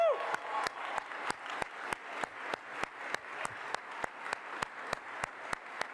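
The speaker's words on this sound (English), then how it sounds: "Jenni, big round of applause." Steady applause from a crowd, with sharp claps ringing out in a regular beat over the clapping, continuing for several seconds.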